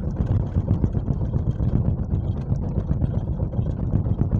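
Chevrolet Camaro Z28 engine while driving slowly, a steady low rumbling drone with continuous rough mid-range texture, close and loud throughout with no pauses.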